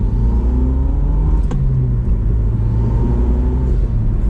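A rusty Mazdaspeed 6 engine revs hard under acceleration, a loud sustained drone rising in pitch with a brief sharp click midway.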